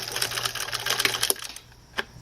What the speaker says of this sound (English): So I use the longest stitch possible and start stitching